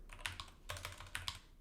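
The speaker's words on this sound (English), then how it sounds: "I'm going to just start typing out creator account" Quick bursts of typing on a computer keyboard, clustered key clicks close and clear with short pauses between groups, no voices.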